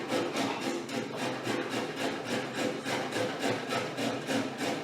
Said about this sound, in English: I'm grating up 1 carrot